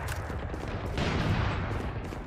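Rapid gunfire in a tactical shooter video game, a dense burst of overlapping shots that swells near the middle and stays loud and continuous with no voices over it.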